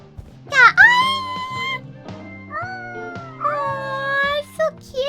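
A cat sound effect from a video game easter egg, heard as a series of wavering, meow-like cries over steady background game music, loud and close, rising and falling across several calls.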